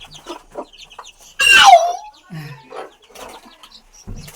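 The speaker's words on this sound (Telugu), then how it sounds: "భలే ఉన్నాయి కోడి పిల్లలు." A hen lets out a single loud, squawking cluck close by, surrounded by faint soft peeps and rustling from her chicks.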